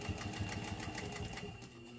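A Pfaff 130 sewing machine runs fast, producing a steady, rapid mechanical whir and needle chatter that holds continuously and close up with no talking.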